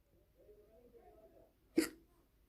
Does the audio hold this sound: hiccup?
yes